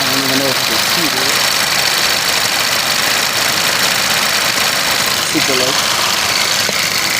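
A Chevy Cruze engine idles with its AC compressor running while the refrigerant is low, a steady broadband mechanical drone throughout, with brief talk over it.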